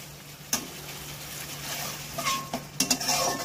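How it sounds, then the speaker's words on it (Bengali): A spice paste with turmeric is stirred and fried in a pan, soft sizzling under scraping spoon strokes and a few sharp clinks of metal against the pan, close and moderately quiet. "এই মশলাটাকে ভালো করে কষাবো"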